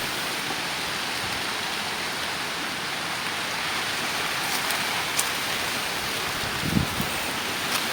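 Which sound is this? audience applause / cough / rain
rain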